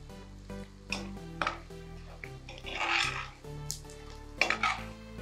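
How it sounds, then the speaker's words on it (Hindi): Edible gum (gond) frying in hot ghee while being stirred and turned in a pan, with soft sizzling under scraping and clinking of a spoon against metal, close and fairly quiet, with background music. "आप इसको उलटते पलटते हुए अच्छी तरह ऊपर नीचे से इसको अच्छा फ्राई कीजिए।"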